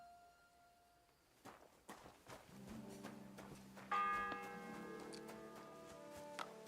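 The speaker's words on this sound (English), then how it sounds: "The first bell." A bell tolls inside a video game, its ringing tones swelling and lingering over soft ticking and footstep-like taps, fairly faint overall.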